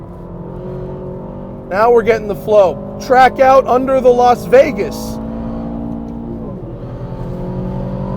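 A fast truck on 23-inch wheels with big ceramic brakes runs at speed on the Las Vegas F1 track, its steady engine drone continuing beneath someone talking and dipping briefly near the end.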